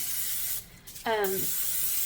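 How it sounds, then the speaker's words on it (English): Canola oil cooking spray hissing onto a pan for a chicken pie, a loud, close, steady aerosol hiss that breaks off briefly in the middle before resuming, with a short voiced sound in the pause. "some cooking spray just to coat this pan"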